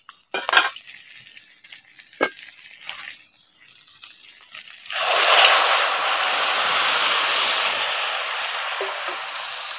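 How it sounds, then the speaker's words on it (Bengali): Dal and fried rohu fish head are stirred and sautéed, opening with scattered spatula knocks and scrapes before a loud, steady hissing sizzle surges in and continues to the end. "একটু ভালো করে নাড়িয়ে একটু কষিয়ে নিচ্ছি"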